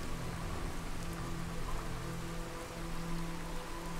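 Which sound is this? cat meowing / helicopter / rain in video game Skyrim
rain in video game Skyrim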